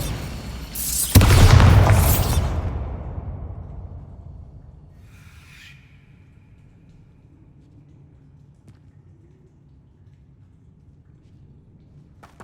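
The Bombarda explosion spell goes off in Hogwarts Legacy with a single loud, booming blast that rolls away into a fading rumble, followed by a faint chime and then quiet.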